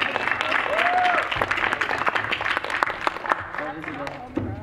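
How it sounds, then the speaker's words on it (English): An audience applauds a performer at an arts panel event, a burst of clapping from a crowd that starts strong and tapers off over a few seconds, with voices mixed in. "applause."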